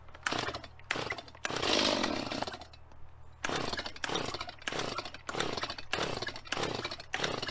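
A chainsaw with a faulty choke cuts a big timber beam in repeated loud, close bursts, the engine revving hard and dropping back to idle between strokes.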